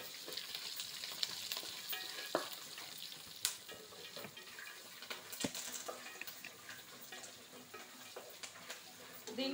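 Bombay rava upma ingredients frying in a pan, a steady soft crackle broken by a few sharp clinks and scrapes of a utensil against the metal, fairly close and at moderate level with no talk.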